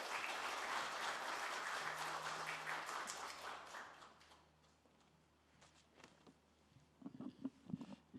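Applause from the audience at a Korean constitutional law society academic conference as the society's president is invited to the podium; dense, steady clapping fills the room for about four seconds, then fades, leaving a few scattered claps and light footsteps.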